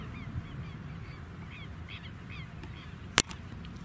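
Several crows caw in the distance, a run of faint repeated calls over quiet beach ambience in Encarnación, cut by one sharp close knock.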